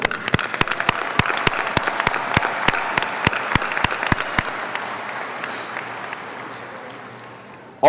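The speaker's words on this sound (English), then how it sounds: "Tigers, let's give another round of applause and thank you for your commitment to our country." Loud, steady applause from a high school graduation audience, with sharp claps ringing out over dense crowd clapping before it gradually thins and fades toward the end.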